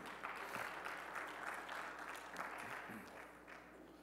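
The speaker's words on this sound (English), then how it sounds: "Clap hands for yourself." Faint, steady hand clapping from a congregation at an evening revival church service, a soft ripple of applause lasting about four seconds with no distinct voices.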